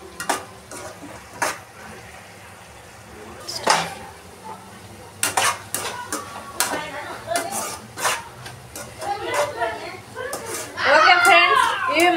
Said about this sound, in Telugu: ఇది మధ్యలో ఇలా కలుపుకుంటూ ఉడకనివ్వాలి